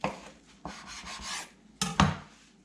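A knife saws through pesto macadamia-crusted mahi mahi, giving a few scraping, rasping strokes and a couple of sharp crunches against the board, close and clear.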